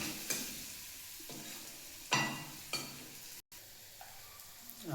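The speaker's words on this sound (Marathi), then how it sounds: "आता हे तळून घ्यायचं." Food frying in a home kitchen pan, a steady sizzle with a few sharper bursts of crackle and stirring scrapes, close and fairly quiet with no voices.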